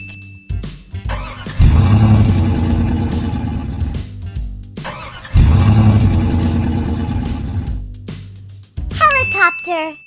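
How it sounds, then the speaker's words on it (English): Garbage truck engine rumbling in two loud, broad bursts that swell and fade, with a light musical jingle between them and a short siren-like tone at the end. "Garbage truck."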